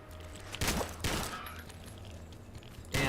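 Gunfire in a Fallout 3 / New Vegas game: two or three sharp burst shots about half a second apart, then a final loud crack near the end, over a quiet ambient background.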